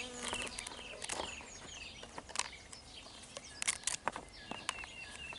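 Birds sing outdoors on a calm day, trilling and chirping in scattered bursts at a moderate distance, with faint insect buzzing mixed in and no voices.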